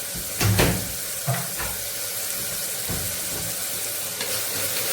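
Onions sautéing in a pan for nombu kanji give a loud, close, continuous sizzle, with a few stirring knocks and scrapes near the start.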